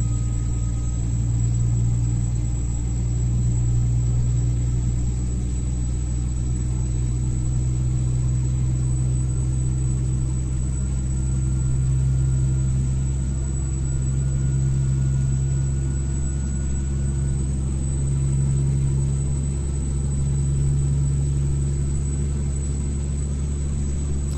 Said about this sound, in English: I'm hoping that you can actually hear the sounds of this truck.